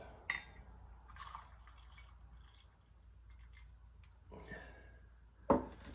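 Quiet trickling and dripping water with small clinks of glass, ending in a sharper splash or clunk, heard up close in a quiet room.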